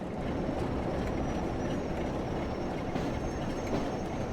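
A Class 08 shunter locomotive in Train Sim World at Blackpool North, braking with a steady, loud broadband rumble and rail noise that holds evenly throughout with no voices.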